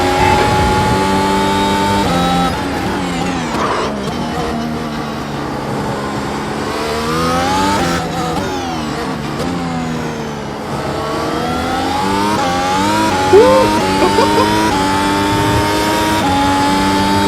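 F1 car engine in a hyper-realistic sim racing game at Silverstone, loud continuous high revving with rising and falling pitch through gear changes and acceleration, heard alone.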